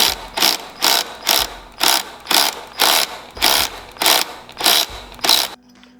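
A ratchet wrench tightens the Renthal Fat Bar clamp bolts on a Honda CRF 250X, making about eleven close, crisp ratcheting strokes in an even rhythm before stopping.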